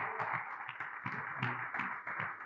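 A small audience at a French-language quiz show claps for a contestant, a steady patter of scattered hand claps, close and moderately quiet, continuing evenly without any voices over it.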